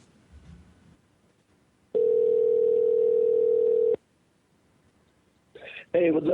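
A steady telephone dial tone sounds loud and alone for about two seconds while a call to a live radio show guest is placed, framed by quiet line hiss and a short burst of noise at the end.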